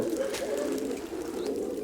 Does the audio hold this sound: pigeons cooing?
yes